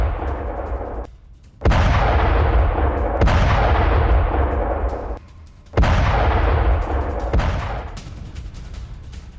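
Explosions and gunfire during Israeli strikes on Tehran, heavy booming blasts in several loud bursts with long rumbling decays, separated by brief lulls.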